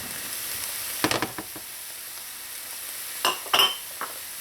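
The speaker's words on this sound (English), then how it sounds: "So allow your meat to start to brown, and the flavors are going to develop with the onions and the garlic." Ground chicken browning with onions and garlic in a pan, a soft steady sizzle broken by a few sharp stirring scrapes and clinks of a utensil.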